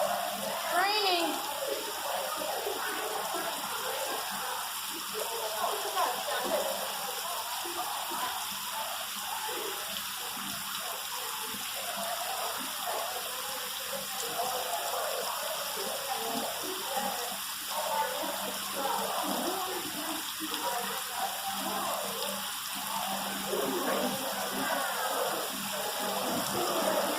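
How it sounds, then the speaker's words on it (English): Simulated rain falls in a zoo rainforest exhibit, a steady, moderate wash of water hiss lasting throughout, with voices murmuring faintly in the background. "Raining."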